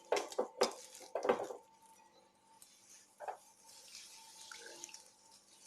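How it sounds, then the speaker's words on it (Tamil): Water poured from a glass into rava appam batter in a home kitchen, quiet splashing and trickling with a few clinks of a vessel and utensils, close and soft, with no talking. "இப்போ ஒரு கிளாஸ் ஊற்றிருக்கிறேன்"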